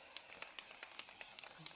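Spray adhesive misted onto the back of a craft stencil over a bin, a faint steady hiss broken by several short bursts of spraying.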